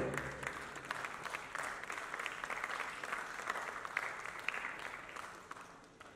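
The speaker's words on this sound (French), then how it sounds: "qu'on applaudit très très fort d'ailleurs" An audience at a film festival award ceremony in a large theatre in Dakar applauds warmly, sustained clapping that holds steady and eases slightly at the end.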